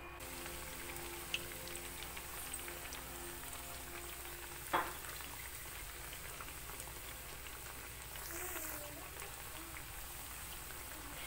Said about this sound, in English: Let's fry. Yeah. So the oil is hot enough.